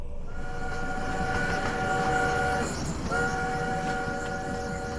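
A luxurious train car rolls along with a steady low rumble, and sustained horn-like tones rise over the noise, break off briefly near the three-second mark, then resume. Loud and close throughout, with no talk.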